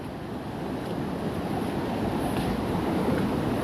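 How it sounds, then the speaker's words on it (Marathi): Rushing stream water swollen after two days of heavy rain, a steady, loud broadband roar of flowing water that fills the whole clip with no speech. "मित्रांनो बघू शकता केवढे पाणी आहे वळेला"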